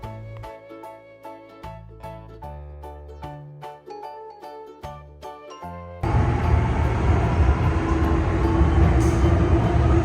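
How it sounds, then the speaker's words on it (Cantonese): A Shenzhen metro ride toward Liantang Port: a few seconds of plucked music notes, then a loud, steady rumble and hiss of the moving underground train. "我哋搭返地鐵去蓮塘口岸。"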